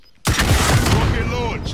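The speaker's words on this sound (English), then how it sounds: "Rocket launched." A rocket launches in a Krampus Caldera duos shooter match, a sudden loud blast followed by a sustained roaring whoosh that fades slightly over a second and a half.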